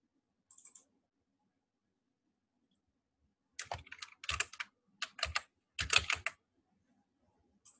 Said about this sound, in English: just typing so that you people can understand.